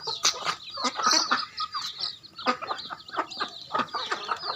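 Black and white local chickens cluck and squabble close by, a busy run of sharp, uneven clucks and squawks with brief flurries, loud and with no talking.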